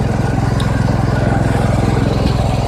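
A small lawnmower-type engine idles while warming up before mud riding in a marsh, a rough, steady, close putter with an even pulsing beat throughout.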